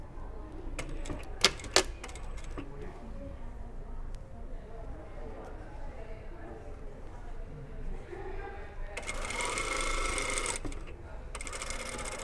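A sewing machine stitches a patch pocket with darted corners in place, short rapid bursts of mechanical clatter near the start and a louder whirring run later, with people talking quietly between bursts.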